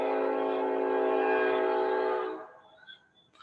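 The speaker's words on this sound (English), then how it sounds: "One second, there's a train." A train horn sounds loud and sustained for about two seconds, then fades away, leaving faint distant rail noise behind.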